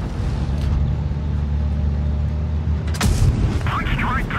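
A tank cannon fires in World of Tanks Blitz gameplay, a sudden loud blast breaking through a steady engine rumble, followed by a brief ringing tail.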